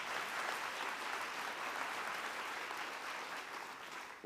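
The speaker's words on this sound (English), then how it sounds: "Let's give them a big round of applause." Steady applause from a crowd at a school back-to-school convocation, sustained clapping throughout at moderate volume with no voices over it.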